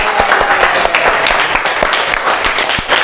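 Students in a classroom clap together at the end of a history lesson, giving close, busy applause with sharp individual claps standing out, sustained at full level with no talking over it.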